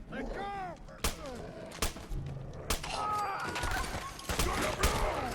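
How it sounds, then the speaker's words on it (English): A grenade blast in the video game Fallout 4, sounding among sharp, repeated gunfire-like bursts and loud impacts, with game combat noise throughout. "Shit. Grenade."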